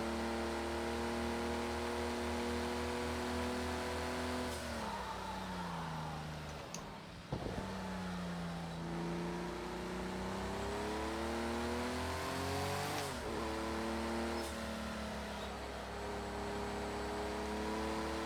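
Simulated Porsche 935/77 race car at Road America, its engine note climbing steadily through the gears with brief dips at shifts, loud and continuous for the whole stretch, no talk.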